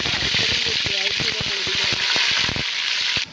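Ginger-garlic paste dropped into hot oil sizzles loudly and continuously, with crackling spatters and stirring clicks throughout before the hiss briefly eases at the end.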